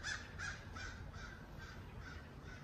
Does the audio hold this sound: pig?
no